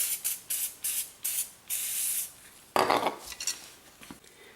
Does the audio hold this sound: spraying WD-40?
yes